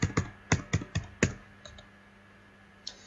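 Quick bursts of typing on a computer keyboard, a cluster of sharp clicks in the first second and a half, then a pause and one lone late keystroke, close and clear with no talk.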